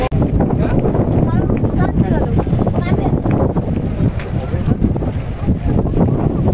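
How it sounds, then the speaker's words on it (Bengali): Strong wind buffets the microphone on a boat in the Sundarbans forest, a continuous loud rushing roar with gusty swells, and people talking intermittently under it. "বাবা প্রচুর পরিমাণে হাওয়া হচ্ছে।"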